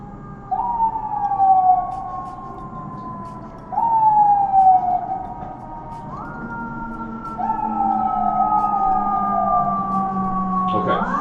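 Sirens in the Nintendo Switch game Good Job! rise and wail in several repeated sweeps, loud and close, with a steady siren tone continuing beneath them.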